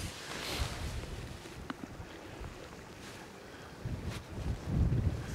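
Strong wind gusting outdoors on the Isle of Arran, buffeting the microphone with rumbling bursts while tent fabric flaps in the breeze nearby.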